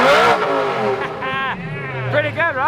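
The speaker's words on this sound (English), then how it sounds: "we are gonna rev it for the viewers" 2006 Lamborghini Gallardo engine revving up close, loud rising and falling revs repeated several times with people talking over it.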